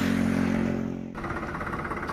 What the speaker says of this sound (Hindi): आने लग रहा है भाई ट्रैक्टर